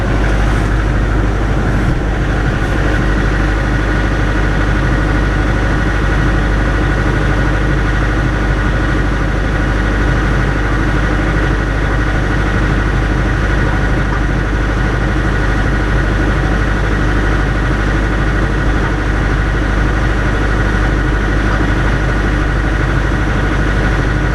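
A loud, steady tractor engine idles continuously with a deep low drone and constant mechanical hum, unchanging throughout, while moving snow with a Leon blade.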